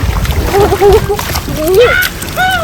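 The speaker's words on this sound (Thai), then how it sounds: "ตักน้ำ" Seawater splashes and sloshes as children scoop water at a beach during high tide, with brief close splashes under excited children's voices.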